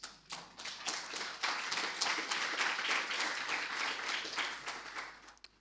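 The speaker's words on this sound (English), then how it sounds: "respected historian, Professor Sean Morrow, deserves our collective applause" Sustained applause from a lecture audience fills a hall at a university public lecture, with many hands clapping steadily at moderate volume and no voices over it.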